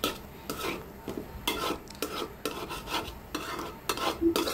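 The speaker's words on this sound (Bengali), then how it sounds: "এই যে পুঁই শাকটা কমপ্লিট হয়ে যাচ্ছে, আলু দিয়ে পুঁই শাক ভাজি" Malabar spinach and potato being stir-fried in a pan with little oil, repeated close scraping and stirring strokes of a utensil against the pan over a faint sizzle, no voices.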